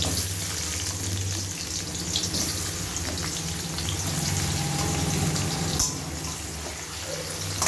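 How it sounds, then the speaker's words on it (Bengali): Cut potatoes frying in hot oil in a wok, a steady close sizzle throughout with a brief clatter near the end, no voices. "কেটে রাখা আলুটা ভাজা বসিয়ে দেবো।"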